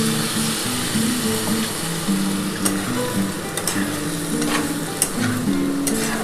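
Okra, potatoes and poppy seed paste fry in a pan as a little water goes in, giving a steady, close sizzle with soft stirring scrapes throughout.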